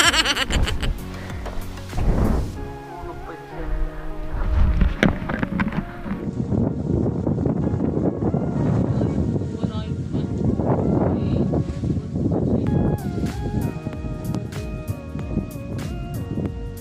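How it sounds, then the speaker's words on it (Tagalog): Strong wind gusting against the microphone atop Lambingan Hills in a constant low roar, with a voice talking faintly underneath. "Mahangin dito mga katrip"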